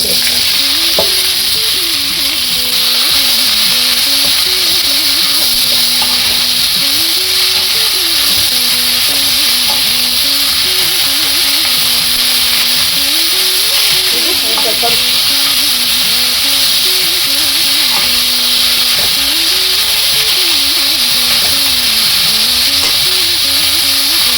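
Chopped bottle gourd fries in oil in a pan with a loud, continuous sizzle, while occasional stirring scrapes sound close by.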